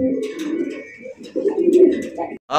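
A female Golla pigeon coos in low, rolling bursts close by, with a short pause midway and a brief higher sound at the end.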